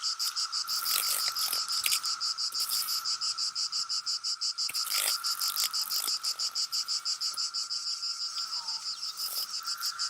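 Cicadas buzz beside a pool in May, a dense, steady, pulsing drone that runs loud and close through the whole stretch with no voices.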